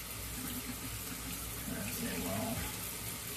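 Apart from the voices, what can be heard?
tap running warm water to wash out a pen converter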